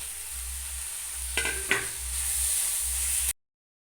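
Chopped coconut sizzles as it sautés in a pan, a steady close hiss broken by two quick scraping stirs, then cut off abruptly.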